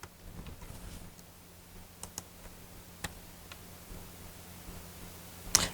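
Keys on a computer keyboard clicking sparsely while text is entered in Hangul 2020 word-processing software: scattered soft taps over a low steady hum, with a sharper click near the end and no voices.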